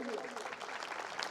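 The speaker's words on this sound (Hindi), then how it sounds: "इन युवाओं के लिए जोरदार ताली बजाइए" Audience applause at a community talent felicitation ceremony in Raipur, greeting young district presidents; a dense, steady wash of clapping for just over a second, with a voice faintly mixed in.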